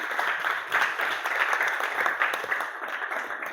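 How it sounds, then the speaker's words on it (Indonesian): A classroom group applauds a student named Natania after her biology presentation, a steady, dense clatter of many hands throughout, fairly close and uninterrupted. "tepuk tangan untuk Natania"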